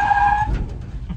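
Tires of a 1966 Chevrolet C20 pickup skid briefly during a brake test, a short, loud tonal squeal that fades quickly into low rumble.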